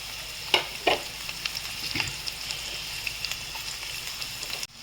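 A medium-sized chopped onion fries in oil for chicken kofta curry, giving a soft, even sizzle with a few sharp clinks of a spatula against the pan, heard up close without speech.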